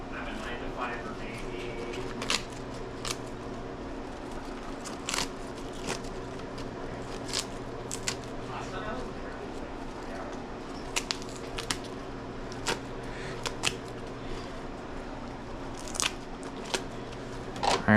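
Salad leaves are torn apart by hand in a series of crisp, sharp snaps and rips, scattered irregularly over a quiet, low kitchen hum.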